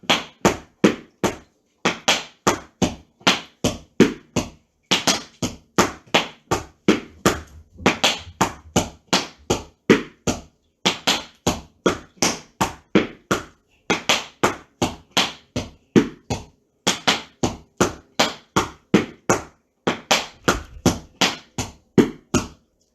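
Tap dance shoes strike a hard floor in repeated flap heel heel steps, crisp metallic clicks in steady rhythmic groups with brief pauses between phrases, close and clear.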